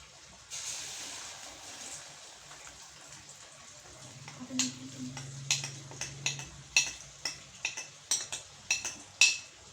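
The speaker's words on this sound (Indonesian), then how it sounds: "Lalu bumbu yang sudah dihaluskan ditumis hingga harum." Ground spice paste for ayam kesrut is sautéed in a pan, with a spatula scraping and clinking against the pan in a steady series of sharp strokes over a faint sizzle.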